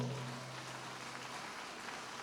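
Applause for the Lord in a church service, a dense, steady wash of many hands clapping together, sustained and fairly even throughout.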